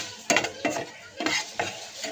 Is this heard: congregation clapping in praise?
no